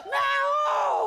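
A performer on a Marathi comedy stage show imitates a peacock's call with a single loud, strained, wailing cry lasting about a second, rising then holding high and nasal.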